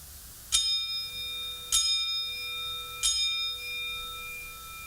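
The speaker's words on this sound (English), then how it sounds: "I will ring the bell 3 times for those we have met" A resonant bell struck three times at a memorial service, each strike ringing out clearly with a long sustained hum decaying into the room's quiet before the next.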